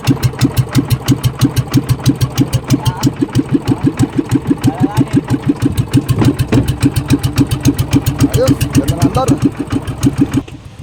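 A small fishing boat's engine runs steadily in a rhythmic, pulsing chug, loud and close throughout, with brief voices over it and the engine dropping off near the end.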